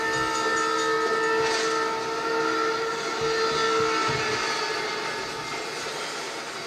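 A steam train whistle blows in a film excerpt, a sustained multi-tone wail lasting several seconds over steady hissing steam and rumbling.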